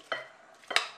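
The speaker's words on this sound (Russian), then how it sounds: "Перемешиваем." A utensil stirs mackerel seasoned with pepper and vinegar in a bowl, giving two quick scraping clinks close by.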